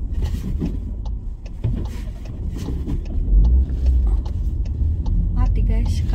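Car engine running with a steady low rumble from inside the cabin while driving slowly in first gear, with a person talking over it throughout.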